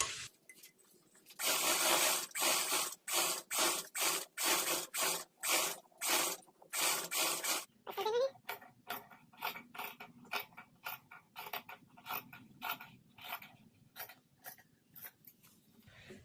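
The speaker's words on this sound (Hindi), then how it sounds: "अभी हम इसको सिलाई लगाएंगे।" A sewing machine stitches a round neck on a garment, starting in loud, rapid bursts of mechanical clatter and then settling into a quieter, steady run of short rhythmic needle strokes, with no speech.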